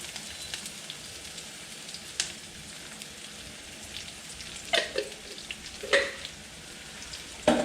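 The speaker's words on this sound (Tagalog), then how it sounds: "Ngayon nilagay na natin yung ating anato oil." Annatto oil, called atsuete, sizzles softly in a pan while cooking kare-kare pata, a steady hiss with a few louder crackling bursts near the end.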